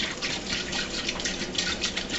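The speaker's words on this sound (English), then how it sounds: "So we're going to just add our water over our plums." Water poured from a gallon measuring container over plums in a homebrew fermenting vessel for plum wine, a steady splashing gush running unbroken at close range with no talk.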